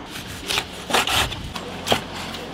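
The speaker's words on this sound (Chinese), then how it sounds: "切点鲜肉" A knife slices through fresh meat on a wooden board in a home kitchen, giving a few short scraping, rasping strokes with brief pauses between them, close and fairly quiet.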